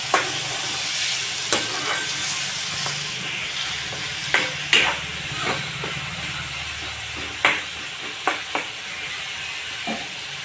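Tomatoes are stirred and fried in a pan, with a continuous hissing sizzle punctuated by about a dozen sharp spatula clacks and scrapes at irregular intervals.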